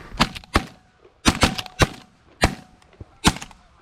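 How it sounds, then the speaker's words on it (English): Shotgun blasts during a Canadian duck and goose hunt, about seven sharp close reports in quick irregular succession, loud and alone. "Nice shot right there, Sam."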